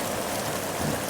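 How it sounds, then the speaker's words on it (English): Hard rain pours steadily in northern Arizona, a dense, even hiss of falling water close by with no breaks. "It's raining. It's pouring."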